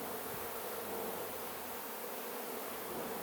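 Many honey bees fly around an open hive, a dense, constant buzzing swarm that fills the air close by, with no voices.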